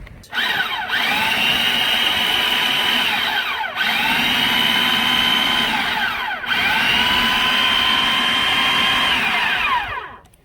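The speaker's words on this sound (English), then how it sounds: "let's go ahead and add the Coriander salmon to the food processor" A food processor pulses coriander salmon in three long, loud whirring bursts, each lasting a few seconds, with a brief dip in the motor sound between them.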